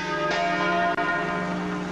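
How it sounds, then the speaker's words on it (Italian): Church bells ring in Gorizia, Italy, near Piazza Vittoria. The clip is a brief burst of loud, sustained metallic tolling with overlapping resonant tones and no voices. "scrutate le campane."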